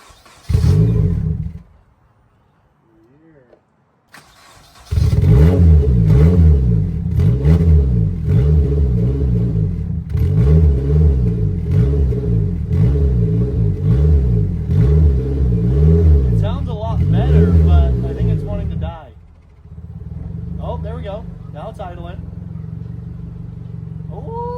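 An Infiniti G20 with an SR20 engine and very quiet exhaust fires up after a cold start and stalls. Restarted, it idles loudly with repeated blips of revving, then drops to a softer idle near the end.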